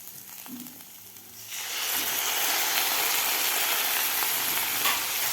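Chillies in a pan burst into a loud, sustained frying hiss as curd is poured in, rising abruptly from a quieter start and staying close and even.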